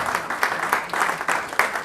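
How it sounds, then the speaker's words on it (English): A real estate seminar audience claps in a brief scattered round, individual hand claps audible as uneven bursts, moderately near. "Clap for me now before I change my mind."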